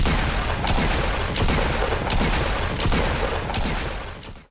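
Double-pump shotgun blasts in Fortnite, a rapid series of about six loud, evenly spaced booming shots over dense, noisy game audio, with no speech.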